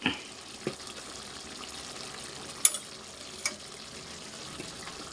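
Chicken curry cooks in a pan after chili powder goes in, giving a faint, low sizzle broken by a few sharp clinks and taps from stirring.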